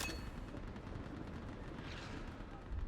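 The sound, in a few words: mounted gun firing in video game Mass Effect 3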